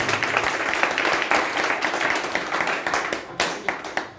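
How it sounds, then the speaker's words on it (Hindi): A congregation at a Hindi Christian prayer meeting clapping loudly for Jesus, the crowd's hands landing in a fairly rhythmic series of sharp, strong claps that carry on steadily with a few louder accented beats near the end. "अगर खुश हैं तो प्रभु यीशु मसीह के लिए जोरदार ताली मारेंगे"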